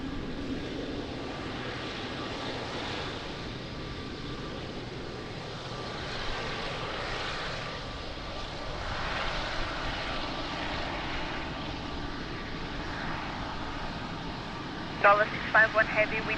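Jet airliner engines roar steadily at Lisbon Airport, a sustained distant drone that swells slightly, while radio talk from air traffic control plays over it.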